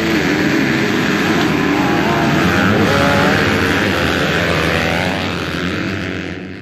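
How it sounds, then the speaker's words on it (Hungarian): Motocross motorcycles race at a Hungarian national championship round on a dirt track, their engines loud and close, revving up and down in overlapping whines before the noise fades slightly near the end. "A hétvégén tartották az országos motocross bajnokság második futamát a Güdüci motoros pályán."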